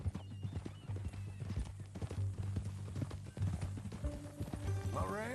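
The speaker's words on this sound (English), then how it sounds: "That new horse?" Horse hooves clip-clop steadily through the whole stretch in Red Dead Redemption 2, a close, even rhythm with a brief whinny near the end and some game chatter underneath.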